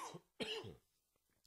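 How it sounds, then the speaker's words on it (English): Two harsh coughs close to the microphone, a short one then a longer rasping one, followed by quiet. "This cough is killing me."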